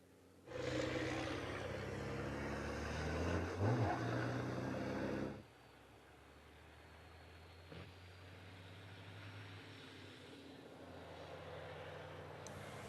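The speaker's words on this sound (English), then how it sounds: "Great to just watch the trucks making their way around" Racing trucks on the Slovakia Ring circuit during qualifying roar past loudly for several seconds, engines rising to a peak before the noise cuts away, leaving a quieter distant drone of trucks further around the track.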